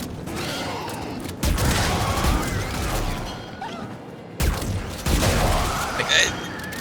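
A weapon firing at a slow rate in the Warframe video game, heavy booming shots spaced a few seconds apart with crackling tails, loud against a busy game background.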